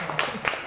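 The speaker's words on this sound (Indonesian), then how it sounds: "Ya, tepuk tangan." Brief hand clapping from a small school group during a funeral-care practice session, a few scattered claps in under a second, fairly faint.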